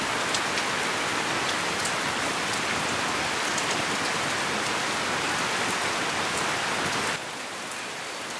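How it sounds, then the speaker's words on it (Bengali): Light rain falls steadily in a village the morning after a night-long storm, a dense even patter on surfaces that thins and softens near the end. "বেশ একটু টুপুর টুপুর করে বৃষ্টি পড়তেছে।"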